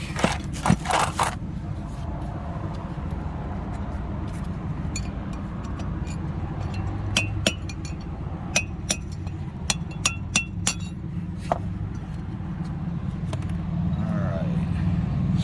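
Outer bearing race being knocked out of a boat trailer wheel hub in a parking lot, a series of sharp metallic taps and clinks, some close together, over steady background hum and passing traffic.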